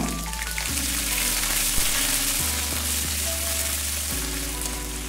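Garlic and ginger paste frying in leftover oil, a steady close hiss of sizzling with faint music underneath.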